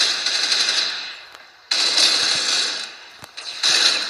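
Automatic gunfire from the mobile shooter game Critical Ops in a deathmatch, with an AK rifle and a silenced pistol in use: three bursts of rapid, bright shots separated by short pauses, loud and close with no talking.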